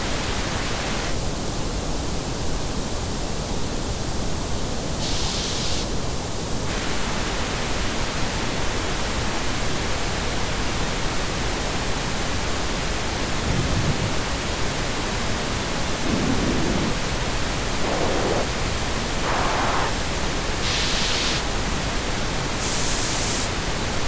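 Pink noise test signal reshaped by an equalizer during an ear-training exercise, a steady full-band hiss running throughout, with short tonal bands briefly boosted at several points.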